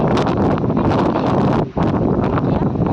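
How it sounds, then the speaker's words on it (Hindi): Strong wind blowing across the ruins of a hilltop fort, heavy buffeting gusts roaring against the microphone almost without pause, with only one brief lull. "तो अभी यहाँ पे काफ़ी तेज़ हवा चल रही है"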